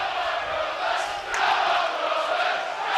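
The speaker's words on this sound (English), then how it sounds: "a very vocal crowd here, as it was last week in the west of the city, as Fisher finds Mark O'Neill" A loud, vocal crowd at a 2007 Hull KR v Leeds rugby league match roars and chants continuously in a broad, distant wash of noise.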